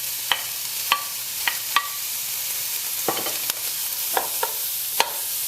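Fatty skin crisps and renders in a dry, warm pan, making a steady low sizzle with several sharp crackles and pops scattered throughout, heard close up and with no talking.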